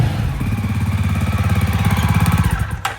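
A Jawa motorcycle engine idles close by with a steady, loud low thump that repeats evenly for about three seconds. It cuts off abruptly near the end.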